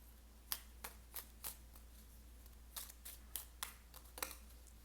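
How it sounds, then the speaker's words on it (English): Cards drawn and shuffled from a deck during a pick-a-card reading: soft, crisp snaps in two quick clusters, faint against a quiet, low background hum. "I'm going to get a few more cards."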